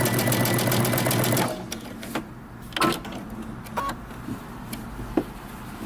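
Sewing machine stitching a side split hem, a steady rapid whirring run at close range that stops after about a second and a half, followed by quiet handling clicks and taps.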